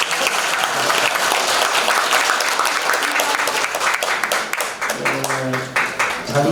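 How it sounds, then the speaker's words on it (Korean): Dense applause from an audience at a Democratic Party legislative activity report meeting, loud and sustained throughout, with a voice emerging near the end as the clapping continues. "이 대목에서 박수 드립니다."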